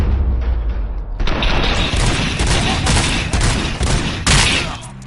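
Loud, dense automatic gunfire in RoboCop Rogue City, sustained bursts with booming impacts that stop briefly and then resume.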